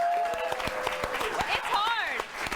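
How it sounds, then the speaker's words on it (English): A studio audience at a talk show claps in a steady burst of applause, mixed with a voice speaking over it. "I think I deserve a round of applause."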